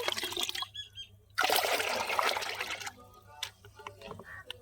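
About two liters of water pours into a container of flower fertilizer in one continuous splashing stream lasting over a second. Quieter dribbles and ticks follow.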